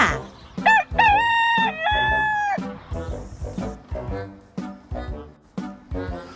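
A rooster crows loudly up close with a long rising call, followed by a string of clucks and short squawks.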